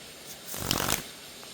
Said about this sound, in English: King of Cups on the bottom of the deck before I start shuffling.